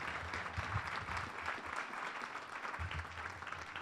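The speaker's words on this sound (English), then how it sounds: "If you could give a round of applause to our speakers." Audience applause for conference speakers at an airport-focused aviation session, a steady wash of clapping from a room full of people, dense and even throughout with no talk over it.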